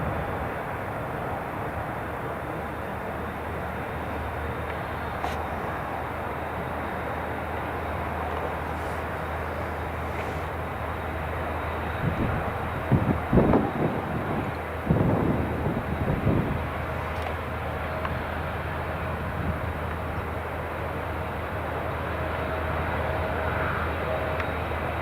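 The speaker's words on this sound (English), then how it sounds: "can you hear British Airways A320 Neo's just starting up now?" British Airways A320neo airliners starting their engines at Newcastle International Airport make a steady, broad roar, fairly loud and distant, that swells briefly midway.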